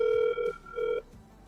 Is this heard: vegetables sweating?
no